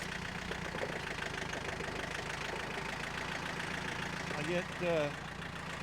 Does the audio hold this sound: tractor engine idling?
yes